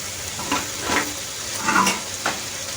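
Boiled chicken and prawns are mixed into a hot pan for chicken spaghetti, making a short run of soft sizzling with several scraping stirs close by and no voices.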